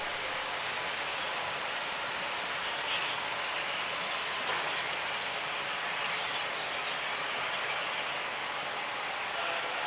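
Steam locomotive 34007 Wadebridge runs into Ropley past the boiler shop, a steady broad rumble and rushing of the train throughout, fairly distant and unbroken.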